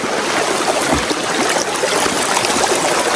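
A cold mountain river rushes steadily over stones, a loud, close, continuous broadband wash of flowing water with no voices.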